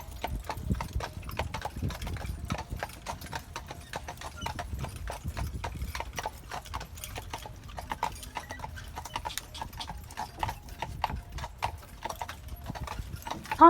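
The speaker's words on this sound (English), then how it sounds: "to hear the clip-clop of the horses and take a scenic carriage tour" Horses' hooves clip-clop steadily on the car-free streets of Mackinac Island, a dense, continuous patter of many hoofbeats from a carriage tour, moderately near, with faint talk in the background.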